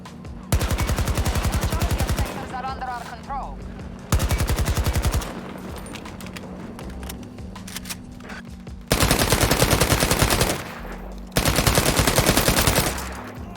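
AK rifle fire in the World War 3 and Battlefield 2042 shooters, heard as several long, loud bursts of rapid automatic shots separated by short gaps, with faint game ambience between them.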